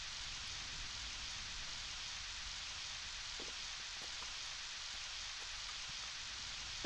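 Steady, dense rainfall in the video game PowerWash Simulator hisses continuously, with a few faint droplet ticks scattered through the wash of noise.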